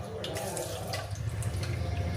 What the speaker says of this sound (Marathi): सगळीकडे पाणी टाकून देते उकळतं.